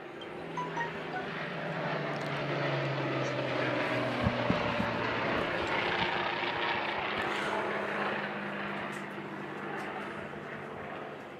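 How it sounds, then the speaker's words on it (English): Aircraft passing overhead during an outdoor Anzac Day ceremony, a steady broad engine drone that swells and holds for several seconds before easing, mid-distance with wind-like rushing noise and no clear speech. "Just wait for the planes to come across again."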